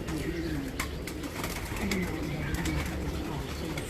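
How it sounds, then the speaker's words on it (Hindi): A pigeon in a loft coos nearby in low, repeated throaty phrases, with light background clatter and rustling. "ये डब वालों में से ये मेरा फेवरेट कबूतर आ गया।"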